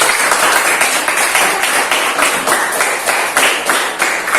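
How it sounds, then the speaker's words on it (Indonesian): Classroom students clap for the first group after its presentation, a steady dense patter of many hands filling the room, fairly loud and continuous without speech. "Tepuk tangan untuk kelompok 1"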